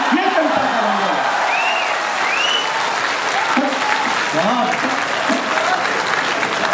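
Sustained applause from a live audience at a Hindi poetry recitation, steady dense clapping throughout with faint voices underneath.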